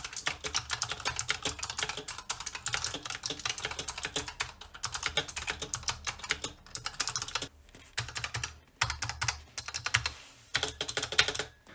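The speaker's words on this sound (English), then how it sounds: "Here's a sound test for the Razer Purples." A Razer Huntsman Elite keyboard with optical purple clicky switches is typed on in fast, continuous bursts of crisp, loud clicks, close up with short pauses between runs and no talk.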